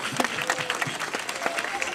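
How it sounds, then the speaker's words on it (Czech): An audience applauds at a key-handover ceremony, giving dense, steady clapping that fills the whole moment with crackling hand claps and some voices mixed in. "zatleskáme jim"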